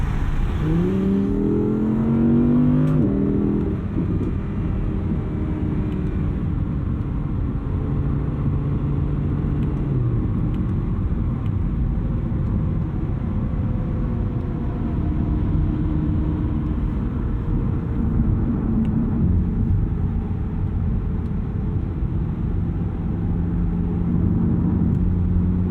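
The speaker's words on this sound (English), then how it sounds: "Just getting on throttle a little bit to induce the pops." Sports car engine idling and revving with a low rumble, light blips of throttle setting off faint exhaust crackles and pops.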